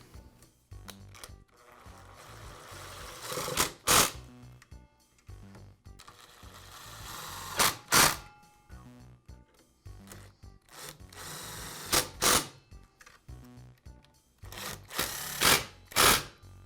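Screws are driven to secure the field and motor housing assembly on a DeWALT miter saw during armature replacement, with short bursts of a screwdriver whirring between quieter handling, rubbing and clicks on the workbench.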